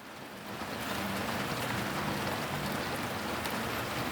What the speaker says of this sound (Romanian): Dar se pare că e o ploaie de aia